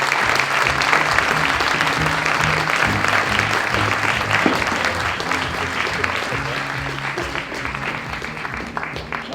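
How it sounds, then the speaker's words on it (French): An audience at a French art history talk gives sustained, dense applause that stays loud and even throughout, with faint voices mixed into the clapping. "d'accueillir Agnès Calu, sous vos applaudissements"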